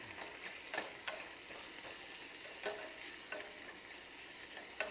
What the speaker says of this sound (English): You want to just stir this up a little bit.